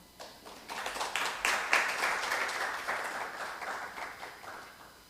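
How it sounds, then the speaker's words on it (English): A conference audience at a business event on ASEAN special economic zones greets a Cambodian embassy attaché with warm applause, a modest room of clapping swelling, then tapering off over a few seconds. "Please welcome him to the stage with a warm applause."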